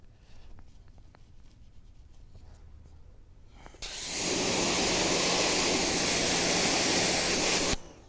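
Steady broadband water spray hits a car wheel during a rinse, starting abruptly midway after quieter rustling and running loud and continuous for about four seconds before cutting off sharply.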